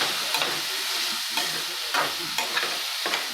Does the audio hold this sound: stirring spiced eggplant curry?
yes